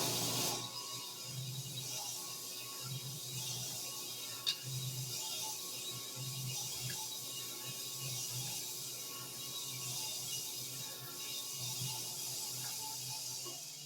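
A steady mechanical whir of a drill press at 150 RPM honing the cylinders of a Briggs and Stratton 18hp opposed-twin engine runs throughout, with a faint grinding texture and a brief click partway.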